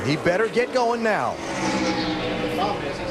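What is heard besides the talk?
None of the usual background noises is heard.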